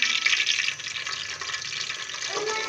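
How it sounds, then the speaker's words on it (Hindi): Cumin seeds frying in a little oil, in a Pakistani kitchen making kachori, give a steady, bright sizzling hiss that stays close and fairly soft throughout. "दूसरी तरफ ये थोड़ा सा ऑयल लिया है। ठीक है, ये हमने रखा, इसमें थोड़ा सा डालेंगे हम ज़ीरा।"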